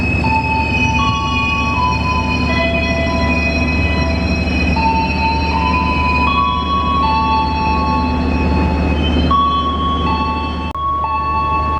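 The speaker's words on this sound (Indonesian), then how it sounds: "Jalur 7 masuk kedatangan kereta api Cikuray jalur 7." Cikuray train arriving on track 7 at Klari station: a loud, close, sustained rumble with steady tonal wheel and brake squeals running over the rolling noise and no voices.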